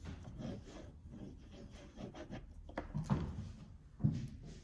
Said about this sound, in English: I can hold my oil pastel on the side and rub it on its side